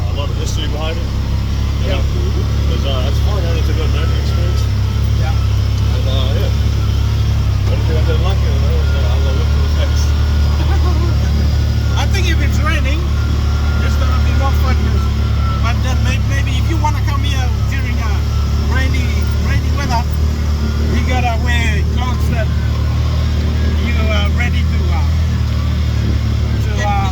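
An off-road buggy on a muddy mountain tour in Rotorua rumbles along with a loud, continuous engine drone close by, while people talk over the noise throughout.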